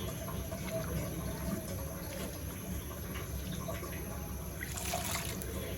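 Water poured into a cooking pot holding a small amount of fish, a steady low trickling splash that runs throughout at moderate level, with faint background noise and a brief brighter burst near the end.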